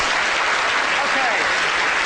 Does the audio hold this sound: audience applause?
yes